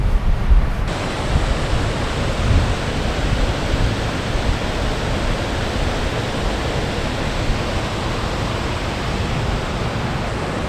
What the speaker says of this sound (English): So I don't know if you can hear me because of the sound of water.